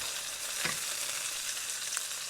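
Half a pepper sautés in a pan with a steady, moderately quiet sizzle, one clear utensil scrape near the middle and a light tap later, no voices.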